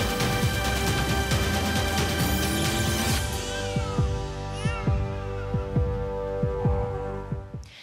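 Steady, rhythmic heartbeat thumps play in an OSDE advertisement. They emerge after a dense musical swell fades and continue as regular low pulses under a lingering hum.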